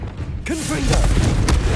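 A Confringo explosive spell goes off in the Hogwarts Legacy video game, a deep booming blast with swirling magical whooshes trailing after it, close and loud over continuous game ambience.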